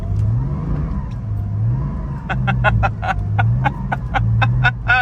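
A Porsche GT4 engine revs in bursts as the car spins in snow with traction control off, a steady loud engine drone joined by sharp rhythmic revving pulses in the second half.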